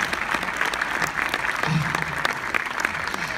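An audience at a social movie night applauds at the close of the screening, with dense, sustained clapping from many people, fairly loud and close, and faint crowd murmur mixed in.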